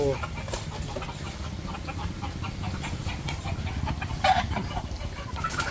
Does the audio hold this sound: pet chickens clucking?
yes